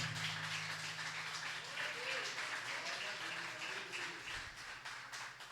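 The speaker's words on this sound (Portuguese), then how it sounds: "Aplauda o Senhor Jesus por essa palavra." A church congregation applauds in a dense, steady wash of clapping that fills the whole stretch, with a voice or tonal sound faintly running underneath.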